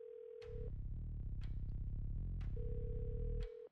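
An unanswered phone call ringing in a video game: a ringback tone starts and stops, then a repeated electronic pulsing buzz with sharp clicks plays loudly and closely for about three seconds, and it cuts off abruptly.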